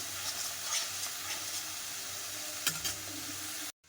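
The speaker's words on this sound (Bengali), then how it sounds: "মশলাটা একটু কষিয়ে নেব" Spice paste frying in oil in a pan, a steady close sizzle and hiss with a few faint stirring scrapes, ending abruptly.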